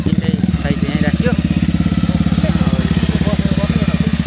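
A motorcycle engine runs close by while bikes are parked at a spring water spot, a loud, rapid, evenly pulsing idle that holds throughout, with brief voices at the start.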